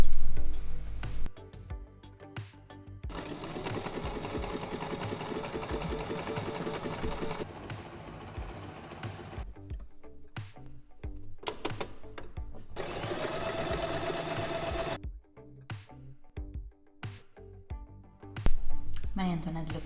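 Sewing machine stitching blouse seams with ruffles, running in rapid mechanical bursts of several seconds each, close and fairly loud, with short pauses between runs and a voice talking in the gaps.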